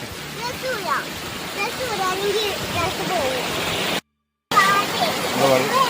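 A small forest stream flows along a narrow channel, giving a steady broadband rush of water. Near, almost continuous talking sits over it, and the sound cuts out briefly partway through.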